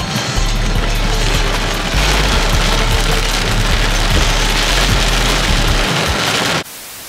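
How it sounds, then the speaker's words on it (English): Steady heavy rain falls on a surface, a loud constant hiss with denser low patter, close and unbroken for several seconds before it drops off abruptly near the end, with no voices. "So as you can see, man, it was raining."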